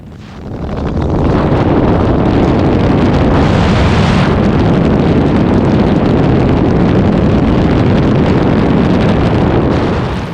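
ELA 07 gyrocopter engine at full power, a loud continuous roar with heavy wind buffeting that swells and holds steady throughout, with no voices.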